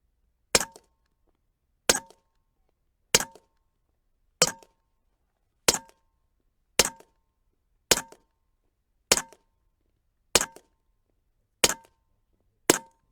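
Eleven sharp metallic pings from Huben K1 airgun pellets striking metal targets, spaced evenly about one and a quarter seconds apart, each a bright crack with a short ringing tail against near silence.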